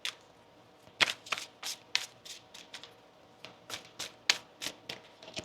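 A deck of tarot cards is shuffled by hand, a series of quick, crisp riffling bursts and soft slaps at an irregular rhythm, close and quiet with no talking.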